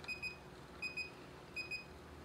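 Pairs of high electronic beeps from an SO2 electrode titration setup at its endpoint while testing wine for free sulfite, three double beeps evenly spaced and close, over quiet background.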